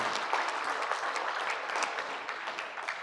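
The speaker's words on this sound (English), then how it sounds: "Please a round of applause once again for this keynote presentation." Conference audience in Kaduna gives a sustained round of applause for a keynote presentation, a thick, even wash of many hands clapping at moderate distance with no speech over it.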